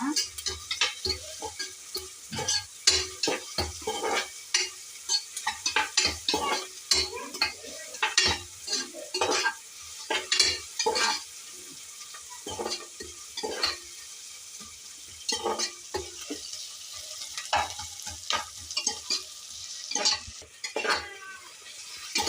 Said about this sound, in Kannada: ಈಗ ಬ್ರೌನ್ ಕಲರ್ ಆಗ್ತಾ ಇದೆ. ಅಂದರೆ ಈರುಳ್ಳಿ ಹಸಿ ವಾಸನೆ ಎಲ್ಲ ಬಿಡಬೇಕು